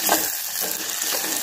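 Ginger garlic paste frying with green chili and curry leaves in a pan, a continuous bright sizzle with soft stirring scrapes, close and steady.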